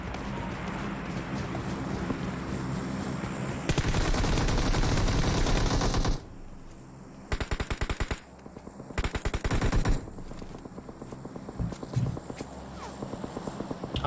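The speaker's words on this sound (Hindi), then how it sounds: "अपने पे शॉट्स आ रहे हैं, अपने पे शॉट्स आ रहे हैं।" Rapid automatic gunfire rattles in a PUBG Mobile match, with a long loud burst followed by several shorter separate bursts and single shots, set against a steady game background.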